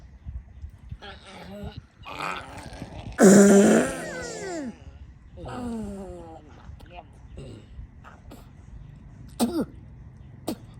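Farting sounds, several short raspy bursts, one loud and drawn out near the start and others scattered and fainter, mixed with a voice that may be imitating them.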